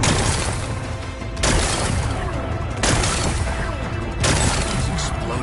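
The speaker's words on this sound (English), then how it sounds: "It's exploding." Rocks blasted apart in Horizon Forbidden West, with three loud, dense bursts of explosive crashing and rumble, each lasting over a second, filling the mix up close.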